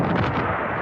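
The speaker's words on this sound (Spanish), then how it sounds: "Segundos después, se escuchan detonaciones." Detonations moments after an air-launched missile strike, a heavy booming rumble that fills the short span at steady loudness.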